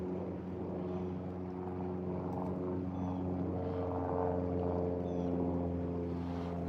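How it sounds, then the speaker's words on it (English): A Cessna propeller airplane passes overhead near a river where someone is trout fishing, a steady droning engine hum holding at an even level for several seconds with no talking. "Here's somebody's Cessna."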